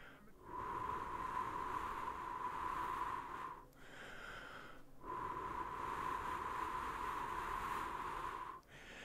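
A voice imitates a quiet train in ASMR style with two long, hushed, breathy rushes close to the microphone, separated by a brief pause.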